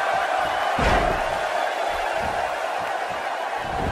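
Loud wrestling arena crowd roaring steadily throughout, with scattered yells and thumping stomps rising out of the din.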